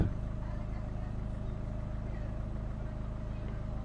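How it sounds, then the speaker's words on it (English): A Volvo S40 1.6 diesel engine idling while in limp mode with fault 2A30, giving a steady, continuous low rumble close by with no talk over it. "So I'm idling now, and it starts to"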